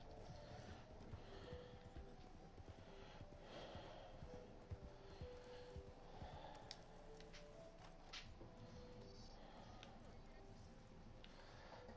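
Horse hooves clip-clop steadily in the Red Dead video game, a continuous close rhythmic trotting with occasional snorts, layered under game ambience and someone talking over it.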